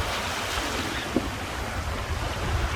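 Wind and waves at sea aboard a sailboat under a fully reefed main, making about 7 knots among shipping: a steady, broad rushing wash of water and wind noise with one brief knock near the middle, no talk.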